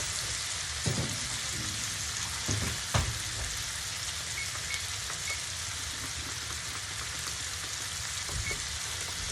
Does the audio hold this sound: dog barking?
no